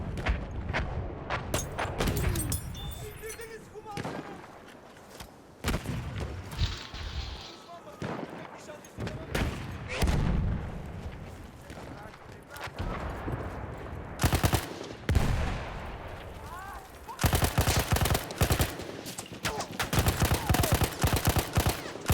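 Bursts of gunfire and booming artillery fire come in irregular volleys, some sharp and rapid like machine-gun fire, others heavy and rumbling, loud and close with brief lulls between.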